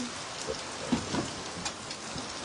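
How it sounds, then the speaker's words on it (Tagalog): Rain falls at a farm in Zamboanga around dinnertime, a steady, faint hiss of drops on surfaces that continues evenly with no voices over it. "Ayan na naman ang ulan."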